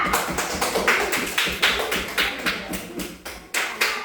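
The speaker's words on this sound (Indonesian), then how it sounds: "Tepuk tangan untuk kelompok 3." Applause from a classroom of students for a presenting group, a steady run of claps from several pairs of hands at close range that keeps going for about four seconds with no talking over it.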